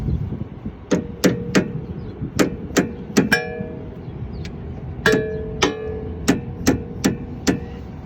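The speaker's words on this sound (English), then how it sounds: "take your hammer, you knock it a little bit lightly" Sharp metallic hammer taps on a car's tie rod, about fifteen in irregular bursts, some ringing briefly, over a low background hum.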